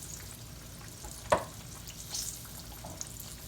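Green tomatoes and yellow squash fry in a pan with a steady, soft sizzling hiss, broken by one sharp clack partway through and a few faint ticks; no one speaks.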